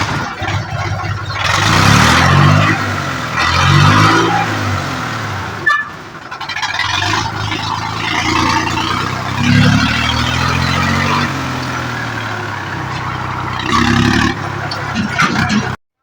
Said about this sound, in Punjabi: ਇਹਨੂੰ ਸੁਣੋ ਆਵਾਜ਼ 45 11 ਦੀ